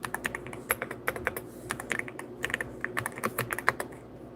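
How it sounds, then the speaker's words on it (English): Rapid, uneven keystrokes clatter on a computer keyboard as names are typed in live, close and crisp, with short pauses between bursts and no talk. "I'm typing names in live"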